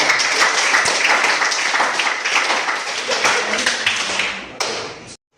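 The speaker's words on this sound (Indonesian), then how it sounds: "Tepuk tangan dulu untuk kalian semua dulu." A classroom of schoolchildren applauds together in a dense, loud burst of many hands clapping, which holds steady, thins slightly and then stops abruptly.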